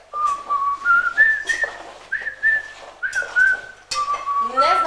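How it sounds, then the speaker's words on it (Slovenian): A person whistles a lilting tune in short, wavering phrases with pauses between them, close and clear, with faint clinks of dishes or glass in the background. "žvižga takole."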